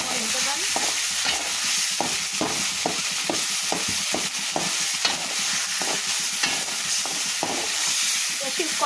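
Prawns with green chili and taro being sautéed in a pan: a constant loud sizzle with rhythmic spatula scrapes and stirring strokes roughly every half second, close up and without speech.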